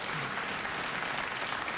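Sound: audience applause

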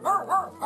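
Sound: dog barking to guard its territory

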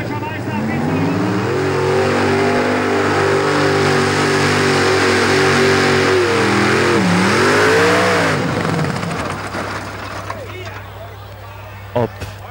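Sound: pulling tractor engine revving, 1800 hp tractor The Killer

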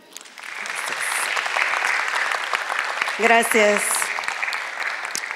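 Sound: audience applause welcoming a speaker

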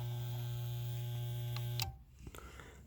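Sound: electric pump humming

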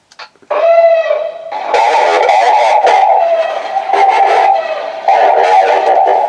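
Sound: Death Trooper voice effect loop from TRamp comm system

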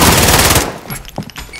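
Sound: gunfire in Call of Duty: Modern Warfare video game

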